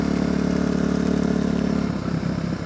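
Kawasaki KLX250 dirt bike engine droning steadily while riding in high gear, loud and close, a constant buzzing rumble that roughens slightly toward the end.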